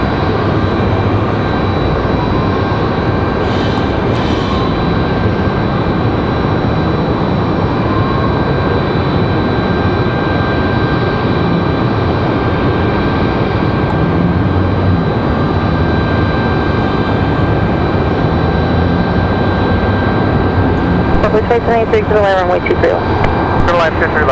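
An Embraer E175 jet at Raleigh-Durham airport gives a steady, loud engine roar lasting throughout, with a broad sustained rumble and a faint fluttering change near the end.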